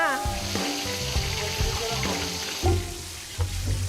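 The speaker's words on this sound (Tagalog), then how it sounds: "kapag hindi na daw maingay yung pumiprito, ibig sabihin, luto na siya" Steady crackling sizzle of food frying in hot oil, continuous and close, with occasional clinks of a utensil stirring the pan.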